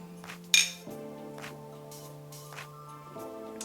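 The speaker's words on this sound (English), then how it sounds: "And let's cheers." Glasses clink once in a toast during an interview, a single sharp ringing chime over a soft hum of background music.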